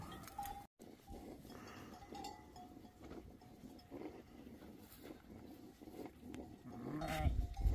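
Sheep and lambs bleat in a pen amid steady farmyard din, with calls rising near the end over a continuous low rumble.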